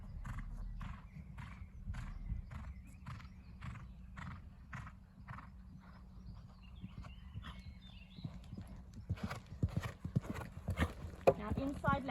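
A horse canters in a showjumping lesson, steady three-beat hoofbeats thudding close and regular, with a horse's whinny briefly; a rider's coaching voice speaks over the gait, and the footfalls grow denser and louder near the end.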